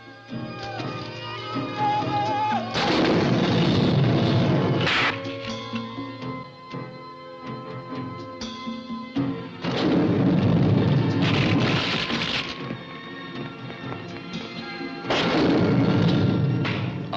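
Heavy weapons fire in the 1971 film The Omega Man, three loud sustained bursts of booming, crashing blasts separated by quieter rumbling stretches, with no talk.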